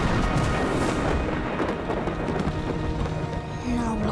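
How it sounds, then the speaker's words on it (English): Steady rain pours down with a low rumble of thunder underneath, a dense wash of noise that holds evenly throughout, with a voice briefly heard toward the end. "Oh dear, it's raining."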